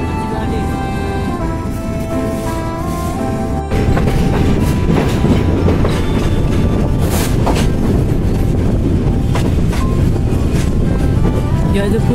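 The Chilahati Express, an intercity passenger train, rolls along at speed with a steady rumble and rhythmic rail clatter, heard close from on board and growing louder partway through.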